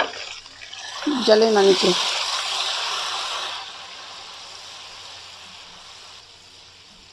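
Water splashes into a pan of frying onion, garlic and ginger, setting off a burst of hissing sizzle that gradually settles into a softer, fading fry. Someone talks briefly over the start.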